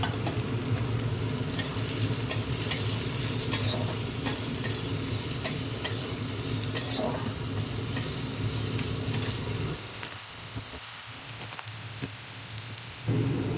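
Potatoes and green chillies sizzle and crackle steadily in a hot pan, close and continuous with scattered spattering pops, quieting briefly near the end before resuming.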